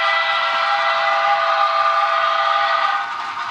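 An HO scale model train of the Milwaukee Road River Division runs past the Wabasha depot, giving a loud, continuous whistle-like tone over steady running noise that eases slightly near the end.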